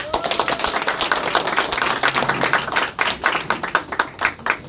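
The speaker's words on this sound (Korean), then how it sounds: "박수 한번 치세요." A crowd claps at a political party's candidacy declaration ceremony, dense fast clapping from many people, loud and close, briefly thinning then resuming.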